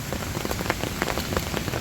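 Steady rain pattering on surfaces in the hills, dense and even, with scattered louder drops and no voices.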